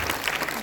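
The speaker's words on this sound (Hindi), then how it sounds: "तालियां दून यूनिवर्सिटी के बच्चों के लिए, गोरखा समाज के बच्चों के लिए" Applause from a workshop audience for Doon University and Gorkha community children at an Uttarakhand culture performance, a short, dense burst of clapping throughout.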